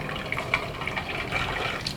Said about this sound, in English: Be careful, but the oil is splashing.